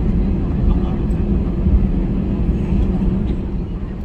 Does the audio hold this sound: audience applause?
no